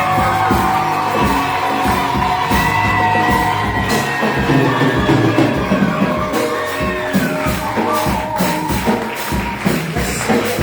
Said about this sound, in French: à travers les cris de joie, nous puissions acclamer très fort pour ce homme